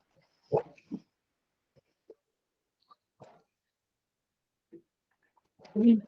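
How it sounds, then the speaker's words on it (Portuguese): Dogs at a house bark in a few short, scattered bursts with quiet gaps between them, sounding somewhat distant. The loudest burst comes at the end. "Desculpa os cachorros latindo desse tanto"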